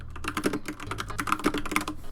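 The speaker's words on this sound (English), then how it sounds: "I'm going to be very subtly and sneakily typing a message to Lee." Quick, irregular keystrokes on a computer keyboard with caps lock switched on, clattering close and alone in a steady flurry of taps with no talking.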